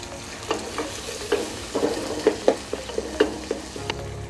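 Roughly chopped onions fry in hot oil with whole spices such as black pepper, cardamom and bay leaves, a steady close sizzle broken by repeated scraping stirs of a spoon against the pan, with no voices.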